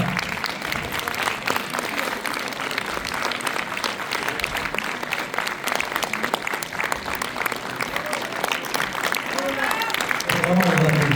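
A cinema audience at a film premiere screening at UGC Ciné Cité Bercy applauds the film's actors, a dense, loud, sustained roar of clapping, with a voice rising briefly at the very end.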